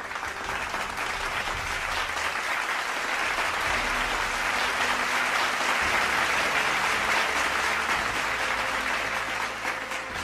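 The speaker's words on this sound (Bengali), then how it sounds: "তার জন্যও একটি হাততালি।" An audience at the prize-giving ceremony of a tiger-conservation fun run in Dhaka breaks into steady, sustained applause, a dense wash of many hands clapping at even loudness for about ten seconds.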